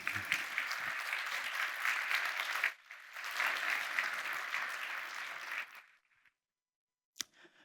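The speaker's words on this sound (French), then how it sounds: "Vous pouvez les applaudir chaleureusement" A conference audience at Forum PHP applauds in two sustained rounds of dense clapping, with a short dip between them, then fades to silence broken by one faint late clap.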